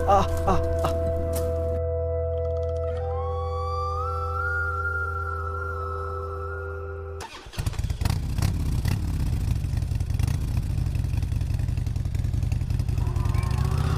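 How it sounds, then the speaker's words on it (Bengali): A cartoon motorcycle rides along a lonely, unlit road. A steady tonal hum comes first, then the engine roars in loud and rough and keeps rumbling to the end. "লোকটি বাইক চালিয়ে যাচ্ছে"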